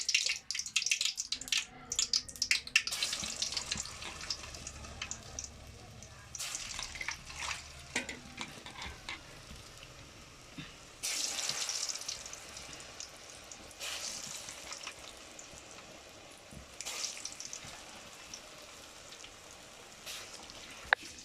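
Vada frying in hot oil while water is sprinkled in, a faint, continuous sizzle with bursts of crackling spatter that rise and fall over about twenty seconds.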